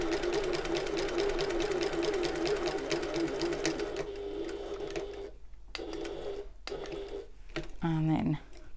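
A sewing machine stitches a shoulder bag in rapid, rhythmic bursts, then pauses as the needle stops down for a pivot at the corner, followed by short clicks and handling sounds before stitching resumes.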